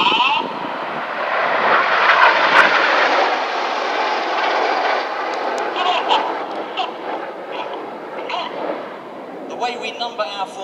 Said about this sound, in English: They're using their feet to swing the jets out like a pendulum in line astern formation.